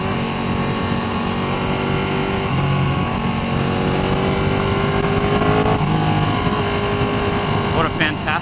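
A Ducati 1299 Panigale S motorcycle riding on country lanes, its engine droning steadily and loudly, the pitch climbing and dropping as it shifts through the gears, with constant wind rush.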